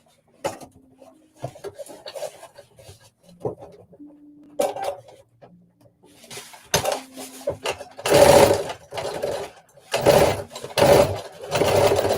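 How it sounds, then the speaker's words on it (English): A sewing machine top edge stitches a seam allowance on a dress, starting with short, halting bursts of needle chatter and handling noises, then running in louder, faster stretches near the end. "I'm going to do a top edge stitch to secure the seam allowance down."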